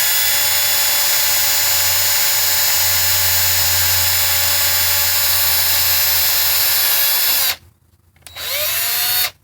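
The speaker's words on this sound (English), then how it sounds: "it is to be drilled with drill bit A, which is 41 thousandths" A power drill whines steadily and loudly as a 41-thousandths bit bores a hole in a VW 09G transmission valve body accumulator, then stops briefly and spins up again near the end.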